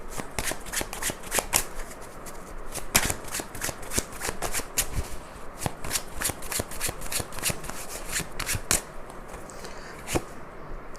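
Tarot cards are shuffled by hand close up, with a steady stream of quick papery riffles and sharp snapping clicks that continue without pause.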